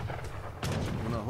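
Gunfire from Age of Empires 3 gives a couple of muffled shots, one faint, then a louder crack with a short rumbling tail, all in a brief battle moment.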